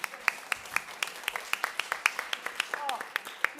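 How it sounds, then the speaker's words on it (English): Scattered hand claps ring out in a loose, sparse rhythm, like a small audience clapping, fairly close with a murmur behind them. "please give Tomiwa a round of applause."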